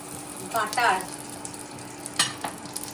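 Omelette frying in butter with capsicum, tomato and chilli, a soft sizzle with stirring scrapes and a couple of brief sharper clinks, close and fairly quiet.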